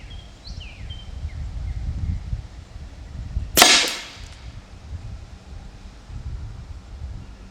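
An AEA Terminator gen2 .30 caliber air rifle fires a 54.5 grain NSA slug, one sharp, loud crack that fades quickly into quiet outdoor wind.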